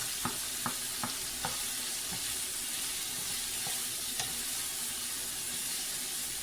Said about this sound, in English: going to brown that onion in that grease